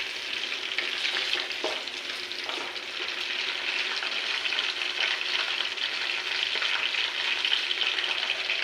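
Green chillies fry in hot oil in a pan with a continuous bright, crackling sizzle and a few faint clicks, steady throughout with no talking.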